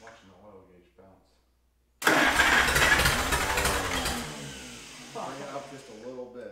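A 1942 Silver King tractor engine, run with the choke, fires up abruptly and roars loudly and close, then settles to a steadier rough idle. Someone talks briefly before it catches and again as it runs.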